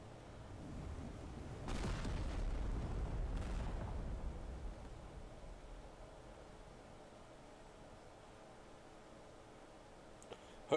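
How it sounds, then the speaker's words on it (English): A meteor strike explodes in the game Teardown as a deep, rumbling blast that swells for a couple of seconds, then trails off into a long quiet hiss, with a small click near the end. "This is a meteor strike."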